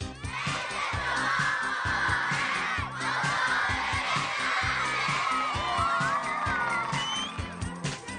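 A studio audience on a neighbourhood competition TV show cheers and shouts with children's voices prominent, a loud continuous crowd roar that swells and dips over several seconds with applause mixed in.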